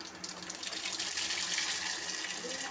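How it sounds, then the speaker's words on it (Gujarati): Mustard seeds sizzling in hot oil, a dense, continuous hissing crackle heard close up, steady for a few seconds. "હવે આપણે નાખી દઈએ રાઈ."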